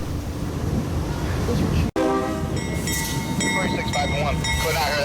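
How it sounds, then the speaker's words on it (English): A Tri-Rail northbound passenger train rumbles past steadily while its horn blares in long, loud chords, with clattering and scattered high squeals as the cars roll by. "P638, a northbound train to Begonia Park."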